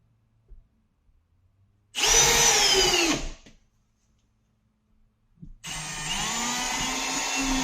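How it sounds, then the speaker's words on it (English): A power drill drilling into a wall whines in two bursts, a short run followed by a longer one after a pause, loud and close, with quiet between. "I will use this drill bit to drill out that size"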